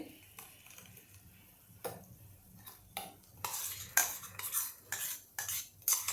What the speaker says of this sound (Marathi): आता ही चटणी मी एका पॉटमध्ये काढून घेते